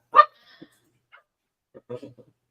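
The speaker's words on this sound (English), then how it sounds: "My dog's been crying a lot. She wants to hang out with us." A pet dog whines and whimpers indoors in a few short, faint bursts separated by silence, with a soft yip at the start.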